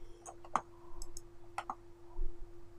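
Computer mouse clicks during a graphic design session: a few sharp, quiet clicks spaced irregularly, with faint tapping in a hushed room.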